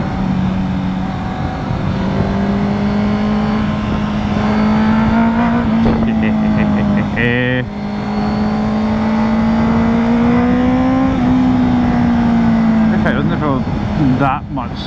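A Honda CBR650F inline-four motorcycle engine hums steadily while riding, its pitch rising gradually with throttle and dipping briefly at a gear change, close and continuous under wind buffeting, with a rider talking over it.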